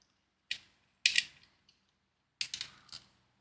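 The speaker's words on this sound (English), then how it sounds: "last two connectors here, pop them into place" Plastic connectors on a 1:2 scale Alien model kit snap into place in a few sharp, close clicks, with a pair of quick snaps near the start and a short cluster of clicks later, separated by quiet gaps.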